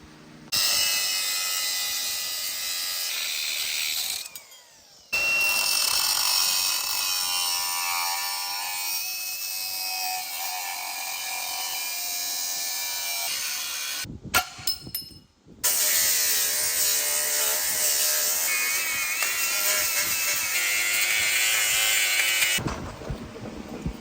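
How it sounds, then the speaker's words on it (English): A power tool cuts off a body mount on a Geo Tracker, a loud, steady, high grinding whine that runs for long stretches, with two short breaks where it stops, close by and alone. "Let's cut this stuff off and get the front piece fitted."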